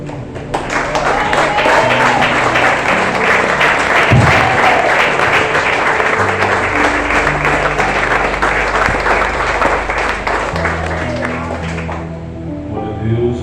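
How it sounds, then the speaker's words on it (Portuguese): A standing congregation at a Portuguese-language evangelical worship service applauds loudly and continuously for over ten seconds, thick clapping layered over live music that carries on as the applause eases near the end. "vamos aplaudir o Senhor, porque Ele é digno"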